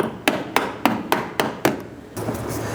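Five sharp hammer taps in an even rhythm, close by, driving push pins into a front inner fender liner on a 1994-2004 Ford Mustang, followed by a brief scrape of handling noise.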